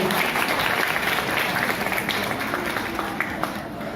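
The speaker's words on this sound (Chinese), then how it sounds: "热烈掌声啊！" A hall audience at a speech contest applauding: steady, dense clapping from many hands that holds at an even level throughout, with faint crowd murmur underneath.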